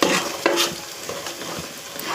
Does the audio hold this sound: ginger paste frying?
yes